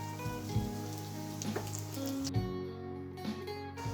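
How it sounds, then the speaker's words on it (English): Chopped garlic, a bay leaf and green chilies sautéing in an oiled pan for a Goan pork dish, a soft steady sizzle like light rain with occasional gentle pops, faint and close. "Now let's saute this for 30 seconds"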